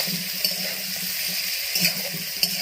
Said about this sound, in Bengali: এবার আমি ফুলকপিটা দিয়ে একটু ভেজে নেব ভালো করে।